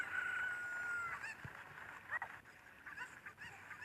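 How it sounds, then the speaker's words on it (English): A chicken in the video game The Legend of Zelda: Ocarina of Time gives a few brief clucks and squawks over a steady game background, with no talk. "Let's try and pick back up this damn chicken."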